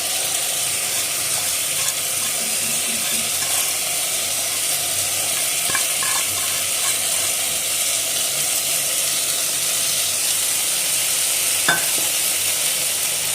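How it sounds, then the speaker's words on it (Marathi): Washed rice being stirred into a spice masala in a hot pan for egg pulao, with a steady close sizzle and frying hiss and occasional scrapes and clinks of the spoon. "आणि हे तांदूळही या मसाल्याबरोबर मिक्स करून घेऊया."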